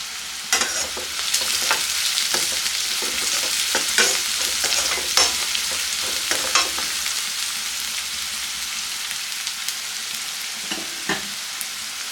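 Onions fry in a pan until golden brown, giving a steady close sizzle broken by repeated scraping stirs; no one speaks.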